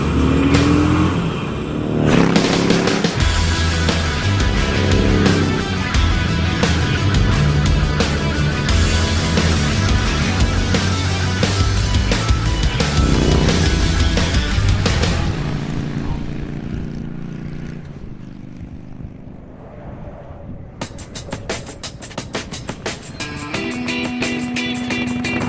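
A stock Harley-Davidson Sportster Iron 883 motorcycle rides with a loud, steady engine drone that sustains for a long stretch, then eases off and comes back, heard close and without talk.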